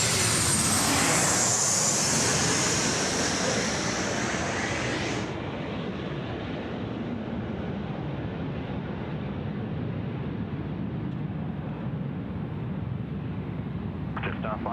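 A Velocity jet landing at Sydney Airport at night roars loudly for several seconds, then drops to a steady, softer engine rush that continues to the end. Someone talks over it at times.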